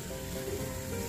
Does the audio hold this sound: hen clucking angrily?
no